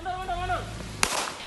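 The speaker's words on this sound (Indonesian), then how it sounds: "Polisi berupaya membubarkan bentrokan dengan tembakan peringatan." A single sharp police warning gunshot cracks out after a moment of speech at a clash, followed by a brief ringing decay; one report, fairly close and loud.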